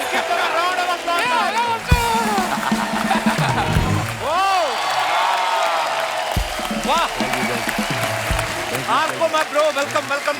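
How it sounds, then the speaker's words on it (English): A studio audience at the Kapil Sharma Show applauds and cheers steadily throughout, a dense, fairly loud wash of clapping with excited voices calling out over it. "Please give them a round of applause."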